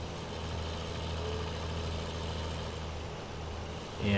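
A tractor engine idling in Farming Simulator 19: a steady, low droning rumble with an even mechanical throb, moderately quiet and unchanging, with a slight swell right at the end.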